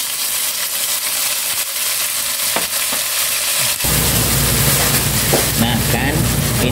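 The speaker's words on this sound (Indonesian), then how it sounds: "Saya siap-siap akan menumis" Loud sizzling sautéing in oil in a wok with stirring scrapes, the sizzle intensifying sharply partway through as food hits hot oil.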